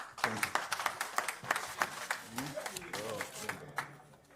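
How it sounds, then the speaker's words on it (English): Audience at a ministerial town hall meeting claps, a scattered patter of hands that builds into steady applause, heard close with voices speaking over it. "One final round of applause for the Honourable Minister."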